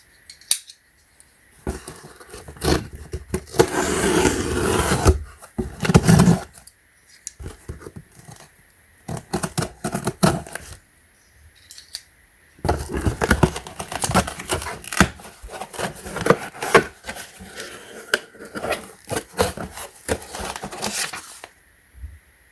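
Packaging of a budget paintless dent puller kit being opened up close, with bursts of crinkling plastic and rustling, sharp snips and clicks, separated by short quiet pauses.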